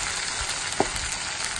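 Onion and pepper sautéing in a pan for samfaina, a steady close broadband sizzle throughout with one brief clink partway through.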